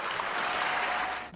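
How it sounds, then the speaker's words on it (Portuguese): A short, dense burst of applause from many hands, even and fairly loud, fading out at the end. "Uma salva de palmas."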